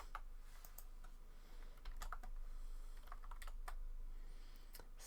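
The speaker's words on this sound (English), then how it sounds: "Oh gosh, I'm typing on the wrong screen." Fingers tapping on a computer keyboard, quiet irregular clicks and bursts of keystrokes over a low steady hum, with no talking.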